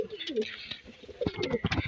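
Kaldum pigeons, a breeding pair with their chick, coo softly nearby in a short, uneven series of low throaty calls mixed with a few faint chirps.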